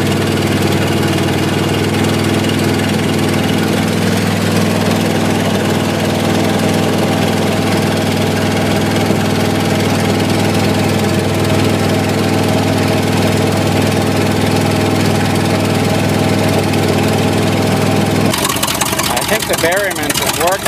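The engine of a 1978 International Loadstar school bus with a Carpenter body idles with cleaning agent running through it, a loud, steady, even hum that holds for about eighteen seconds before a brief change in tone at the end.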